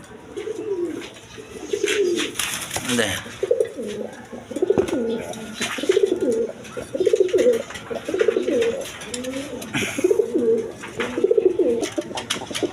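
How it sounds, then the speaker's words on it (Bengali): A pair of high-flying pigeons cooing in a loft with birds for sale, repeated low rolling coos in a steady rhythm close by, with brief talk and background chatter between calls. "এখানে এক পেয়ার কবুতর আছে হাই ফ্লাইং কবুতর"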